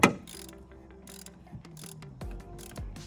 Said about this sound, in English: So what I'm going to do is just going to take my wrench, put it in there, get it spinning the right way, of course.